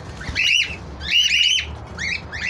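A female pied cockatiel parrot squawks in a village home, three harsh, shrill calls close up in quick succession.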